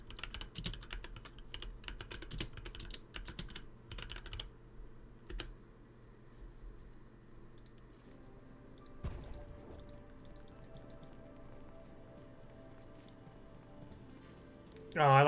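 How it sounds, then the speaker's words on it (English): Someone types on a computer keyboard during a game stream, producing quick bursts of close key clicks at the start and then scattered taps, with a quiet background hum under the keystrokes. "One second, I'm typing something in the Discord."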